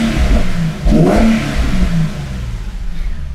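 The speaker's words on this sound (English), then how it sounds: "Let me just rev the engine a little bit." A car engine revs up hard and drops back several times during a fuel pressure check in a garage, loud and close with no talking.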